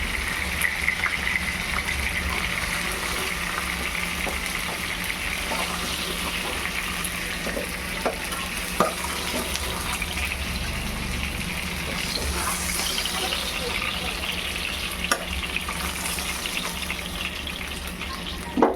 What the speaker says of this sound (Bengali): ভেটকি মাছ ভাজছি, এত সুন্দর একটা ফ্লেভার বেরোচ্ছে